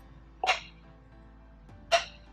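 Two sharp wooden knocks of juggling cigar boxes striking each other ring out about a second and a half apart, crisp and close against a quiet background.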